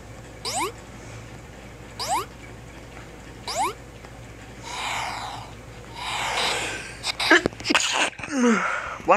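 A sneeze during Team Fortress 2 gameplay: one loud, close, breathy burst that follows a few sniffs and short snorts, with faint rising chirps earlier on.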